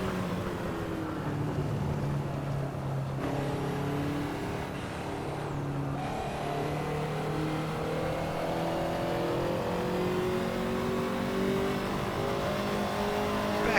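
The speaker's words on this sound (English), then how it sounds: "You know when you've got a V8 car. It just sounds torquey. It sounds throaty." A deep, throaty Ferrari 288 GTO V8 engine in the Assetto Corsa video game drones continuously, its pitch rising and falling as it revs through gears, with no voices.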